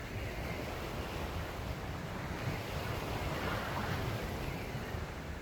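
Steady wind of about 15 knots roars and buffets the microphone over rushing water aboard a Catalina 38 sailboat, continuous and unbroken, with no voices.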